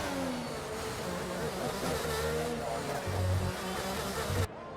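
An Aston Martin Formula 1 car's engine in F1 22 at the Azerbaijan circuit's turn 5–6 chicane, a loud, steady high-pitched whine that shifts pitch through downshifts and brief revs, continuous throughout.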